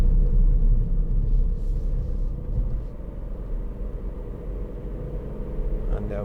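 A 2018 Ford Fiesta ST-Line X with a 1.0 EcoBoost engine accelerates along a road in third gear, its steady low engine rumble and road noise heard from inside the cabin, with someone talking over it.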